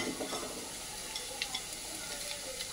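Crushed garlic, black cumin and pepper fry briefly in oil, a faint, close, steady sizzle with a few light stirring ticks and no talking.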